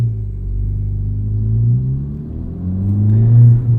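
A 2023 Honda Civic Type R with an MRT street race axle-back muffler delete revs loudly, its deep exhaust rumble rising and falling in two strong pulls with no talk over it.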